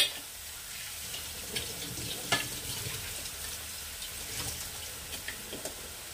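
Bathua greens sauté in a pan on the stove, a steady soft sizzle with a few scraping stirs and brief clinks scattered through, close and moderately quiet with no talking.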